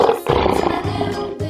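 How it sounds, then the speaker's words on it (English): A lion in a 3D animal slide video game lets out a loud, close roar in a few rough surging bursts. "Lion."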